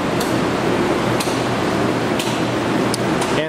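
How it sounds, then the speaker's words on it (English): Fans on an automated vacuum forming machine hum and rush steadily at close range, with a few sharp mechanical clicks scattered over the continuous noise. "Then we have our fans turn on."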